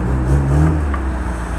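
A Jeep's engine revs up on a street, a steady loud low rumble that swells slightly before settling, close by and without talk.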